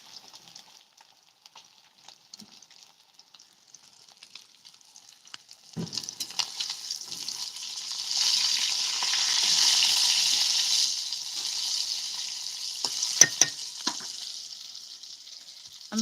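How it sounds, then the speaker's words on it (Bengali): Fish frying in a pan: a quiet start, then loud, steady hissing sizzle building midway, with scattered clinks and sputters throughout. "এই দেখুন মাছ ভাজছি"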